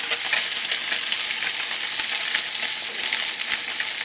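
Branzino sears in a hot pan, a dense continuous sizzle with a crackly hiss and small pops, close and fairly loud, with no one speaking.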